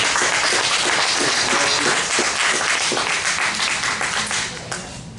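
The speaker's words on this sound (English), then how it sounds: "let's give the sister another round of applause for her." Applause fills a church hall as a congregation claps for a sister, a dense, steady wash of hands that stays loud before thinning near the end, with voices faintly mixed in.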